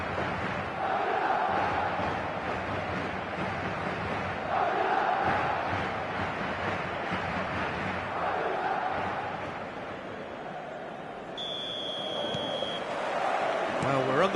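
Stadium crowd in the eFootball video game, a broad sustained roar that swells and ebbs in waves, with a commentator talking over it and a brief whistle-like tone near the end.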